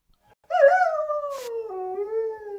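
A single long dog howl rises sharply then slowly falls in pitch, clear and close against near silence.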